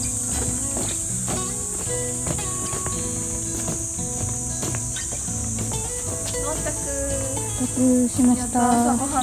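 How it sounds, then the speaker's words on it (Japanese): Cicadas singing in a park, a constant high-pitched drone that holds steady through the whole stretch, mixed with scattered footsteps and faint background activity. "セミが鳴いてるね。"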